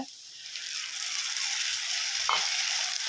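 Ground tomato paste hits golden fried onions in a pan and sautés with a loud, steady sizzle and hiss, broken by a brief scrape of stirring; no speech.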